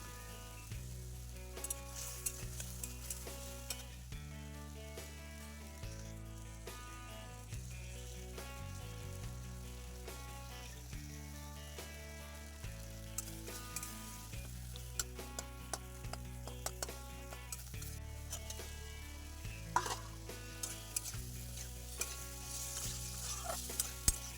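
Ginger, cumin, coriander and tomato spice paste fries in a pan, a faint sizzle and stirring scrapes with light ticks of a spoon, sitting under steady background music.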